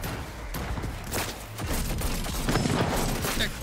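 Bursts of gunfire from a firefight in Cyberpunk 2077 Phantom Liberty, with shots dense and loud across the whole moment amid game noise.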